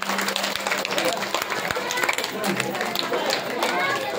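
Audience clapping at a school annual day celebration, a dense steady patter of many hands with crowd chatter mixed in throughout.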